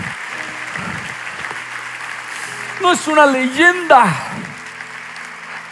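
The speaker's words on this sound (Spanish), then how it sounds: "Demos un aplauso al Señor." Congregation clapping at an Easter church service, a steady wash of applause running underneath while a preacher talks loudly over it.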